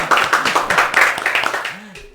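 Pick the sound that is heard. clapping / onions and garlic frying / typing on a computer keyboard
clapping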